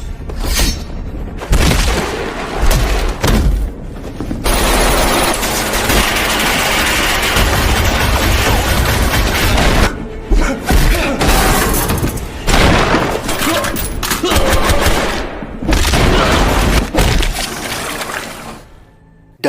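Troops open fire in a Korean action film, with loud bursts of gunfire, booming impacts and shattering crashes coming in dense waves, separated by brief quiet gaps.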